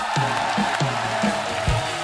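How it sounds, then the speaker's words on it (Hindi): A studio audience cheers and claps for guests on a comedy show, with whoops and swooping shouts rising over a steady crowd roar. "जोरदार तालियां हमारे मेहमानों के लिए"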